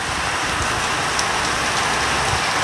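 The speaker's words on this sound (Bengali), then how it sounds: "দেখো কত বৃষ্টি পড়ছে, মুষলধারে বৃষ্টি পড়ছে" Heavy rain pours steadily, a dense continuous hiss of drops drumming on surfaces with no letup.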